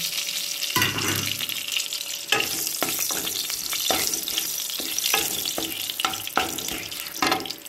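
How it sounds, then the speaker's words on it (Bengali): Bay leaves and dried red chilies sizzle and crackle in hot oil with fried fish and mustard, a steady close frying hiss broken by sharp bursts as the spices hit the pan and get stirred. "এর মধ্যে 2টো তেজপাতা দেবো ফোড়নে, আর 2টো শুকনো লঙ্কা"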